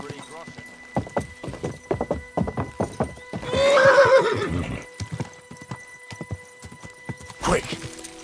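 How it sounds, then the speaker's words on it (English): A horse in the medieval game Kingdom Come Deliverance 2 gives one loud whinny, with steady clip-clop hoofbeats before and after it and a short sharp snort near the end. "This horse must have cost a pretty groschen."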